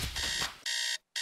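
An electronic alarm rings in loud, shrill bursts, a long buzzing tone cut off briefly before starting again, with no voices.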